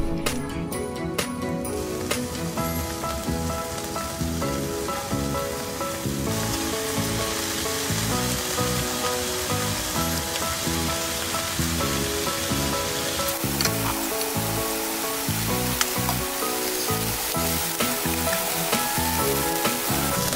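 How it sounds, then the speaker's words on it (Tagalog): Bacon sizzles and spits in a wok with no oil added, a loud, dense, continuous crackle with occasional stirring scrapes and no talking. "Dito sa ating wok, lalagyan natin yung bacon."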